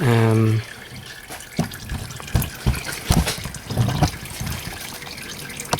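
Engine oil drains from a Volvo XC into a container, making uneven trickling splashes and drips at close range. A brief voice is heard at the very start.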